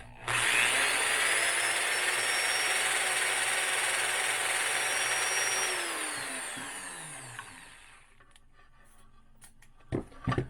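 A Frankford Arsenal Universal Trimmer trims a 5.7x28 brass cartridge case, giving a loud, steady motorized whir with a high cutting tone for about six seconds before it winds down, followed by a few faint clicks and handling sounds.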